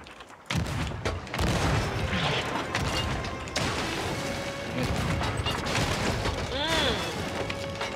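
Ship cannons fire in the pirate game Sea of Thieves. Heavy booms and mechanical rumbling fill the clip under a continuous dense game soundscape, with a voice talking over it.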